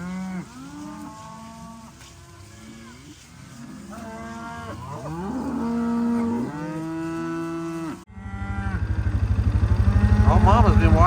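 A cow moos repeatedly in long, loud, harmonic calls near a farm herd with Mashona cross calves, several bellows overlapping; a motor starts up near the end and drones steadily.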